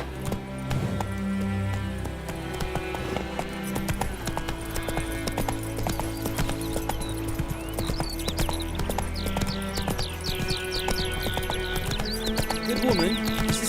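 Roach, the horse in The Witcher 3, gallops in a steady rhythmic clip-clop of hooves, close and continuous, with a brief neigh and soft game music underneath.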